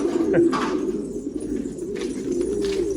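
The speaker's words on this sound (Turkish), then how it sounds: "Her yerde kuş var." Pigeons cooing nearby in low, throaty, repeated calls, several birds overlapping in a steady murmur.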